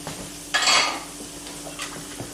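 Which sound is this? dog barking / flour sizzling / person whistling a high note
flour sizzling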